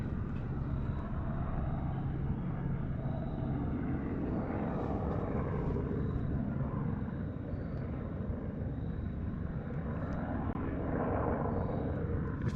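A helicopter with two hoops suspended beneath it on cables passes overhead, a continuous loud rotor and engine roar that stays steady throughout with no voices.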